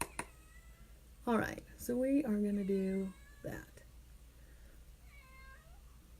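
A house cat gives a drawn-out, wavering meow and then a fainter one, mixed in with someone speaking indoors.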